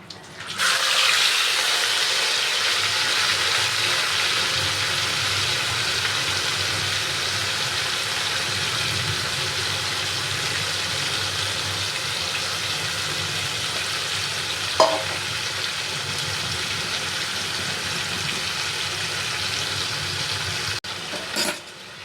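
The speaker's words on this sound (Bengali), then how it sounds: "মাংসটা এক পিঠ ভাজা হবে, তারপরে আবার আমি আস্তে আস্তে ওটাকে উল্টে দেবো।" Marinated chicken for Kolkata-style biryani frying in hot oil with a bay leaf, giving a loud, continuous sizzle that holds steady throughout, with one brief clink near the middle and no talk.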